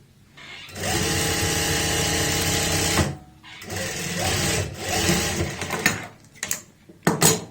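A sewing machine stitching palazzo trousers runs loud and close in a long burst, stops, then resumes in shorter uneven runs ending in quick stuttering starts and stops.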